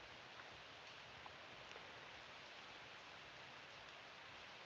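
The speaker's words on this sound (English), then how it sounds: "the sound of the rain is quite loud" Rain falls outdoors during a martial arts stretching session as a steady, faint hiss of dense drops, with a few soft patters and no voices.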